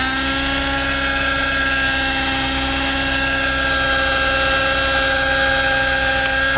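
An Align T-Rex 600N nitro RC helicopter with flybarless setup idles steadily at close range, a loud continuous engine drone with a high-pitched whine and strong steady tones, no voices.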